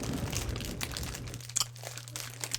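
Crunchy Maltesers chocolates being chewed, with faint crackly crunching and a few small sharp snaps, quiet and close over a low steady hum.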